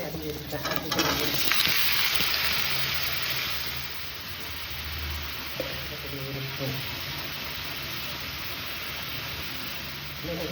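Onions frying in oil in a pan for a South Indian potato tomato rice, giving a loud, steady sizzle and hiss that runs unbroken from start to finish.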